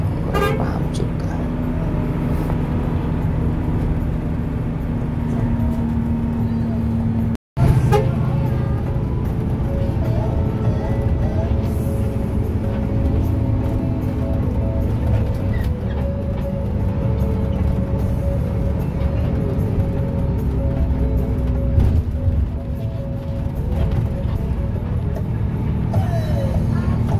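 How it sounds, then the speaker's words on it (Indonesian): Trucks and container trucks passing on a road, heard from aboard a Harapan Jaya night bus: continuous heavy engine and road rumble with several horn toots, loud and steady throughout. "Di sini tuh banyak truk-truk, baik truk ganda ataupun truk kontainer ya"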